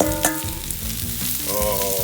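Mushrooms with olive oil sizzle and crackle steadily on a hot grill, close and continuous, with a brief clatter at the start.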